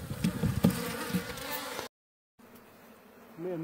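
Bees buzzing densely around a hive in the Brazilian sertão, a loud close swarm drone with brief louder passes. It cuts to silence, then returns as a fainter, thinner hum.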